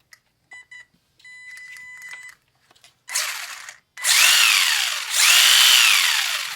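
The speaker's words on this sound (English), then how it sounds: "Not bad for a little micro servo." Micro servo motor on a small RC car: after a few faint electronic chirps and ticks, loud high-pitched whirring bursts rise and fall in pitch, close up, with no speech.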